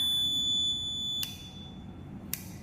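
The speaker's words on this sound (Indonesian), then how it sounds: "Hasilnya adalah buzzer menyala." A steady high electronic buzzer tone sounds alone, with two brief clicks or pulses marking changes in the tone.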